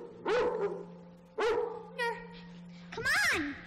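A dog in a high school stage play of Peter Pan gives three or four loud, close barks and yips in separate bursts, with a steady hum running underneath.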